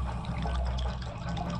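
Water filling a room in Liquidators, a video game set in an abandoned nuclear plant, a steady gurgling trickle and pour, moderately loud and continuous, with no talking.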